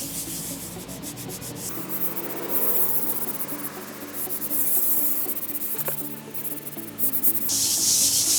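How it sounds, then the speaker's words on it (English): A tile surface is scrubbed with an emulsifying pad worked through an acid grout haze solution diluted 4:1 to 5:1 from a spray bottle, making steady close rubbing and scouring strokes that continue throughout with no talk. "just going to work that solution into the tile"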